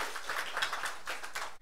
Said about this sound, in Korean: 우리 하나님 박수 올려드려요.